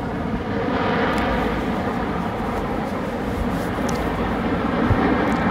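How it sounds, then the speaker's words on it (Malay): A loud, steady roar of an RMAF military jet engine at an air show on Langkawi fills the air, rumbling broadly without pause for several seconds. "Dekat sini ada pertunjukan kapal terbang"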